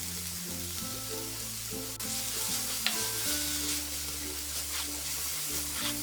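A bread-pocket filling with tomato ketchup sizzles and crackles steadily in a frying pan as it is stirred, close and continuous, with low tonal music running underneath.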